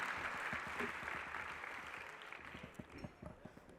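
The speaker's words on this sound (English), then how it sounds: "Can we hear a big round of applause for all the participants" An audience claps for the participants of a valedictory session, a broad wash of applause that starts full and gradually thins out, leaving a few scattered, louder individual claps near the end.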